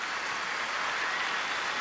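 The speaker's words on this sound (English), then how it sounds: "You see the Ole Miss players clapping in support." Ole Miss players applaud steadily from a distance during a college football game against Auburn, a soft continuous patter of clapping blended with crowd noise.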